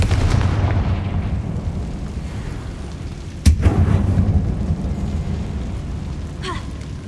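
A Confringo fire spell blasts in the Hogwarts Legacy video game, one sharp explosive burst rising above a steady rumble of game ambience, with a fainter crackle trailing a few seconds later.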